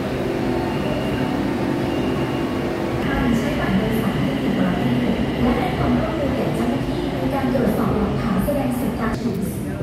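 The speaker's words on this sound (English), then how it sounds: "The train is coming." A metro train rumbles and screeches into Chit Lom station in Bangkok, a loud steady roar with faint high squeals, with people talking in the background.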